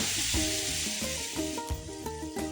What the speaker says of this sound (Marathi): फायनली आपली ही भाकरी गेली आहे तव्यावरती